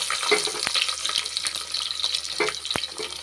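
Mustard seeds, chana dal, cumin, dried chillies and garlic fry in hot oil. The sizzle is continuous and fairly loud, with sharp pops and spatters through it and a couple of clinks from a spoon against the pan.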